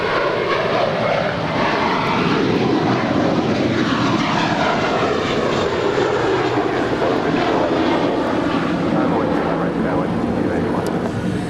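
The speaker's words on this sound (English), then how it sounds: "This is Minterial Girl departing to Newark Liberty with JetBlue, flight 1874, an Airbus A321." A JetBlue Airbus A321 departing Los Angeles International for Newark roars loudly and steadily, its jet engine rumble broad and sustained without letup, heard from nearby on the ground.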